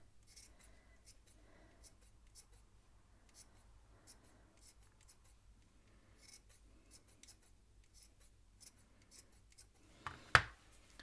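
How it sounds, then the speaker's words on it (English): Scissors make quiet, scattered snips as they trim loose ends from a yarn pom-pom made on a fork, with one louder, closer cut near the end. "Give it a bit of a trim, getting any excess long bits."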